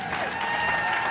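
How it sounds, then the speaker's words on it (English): An audience at the 2022 Polo Hall of Fame induction ceremony gives a brief burst of steady, dense applause from many hands, close and full. "big round of applause. They did it."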